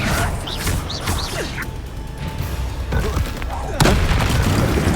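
Bombardo and Confringo spell blasts in Hogwarts Legacy go off as a series of booming explosions and crashes with whooshing casts, the loudest burst near the end, while voices shout over the combat.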